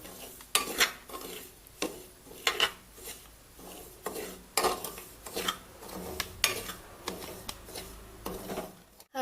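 Coarse semolina for sanja is dry-roasted in a pan over a medium flame, with a spoon repeatedly scraping and clinking against the metal in irregular strokes, close and moderately quiet.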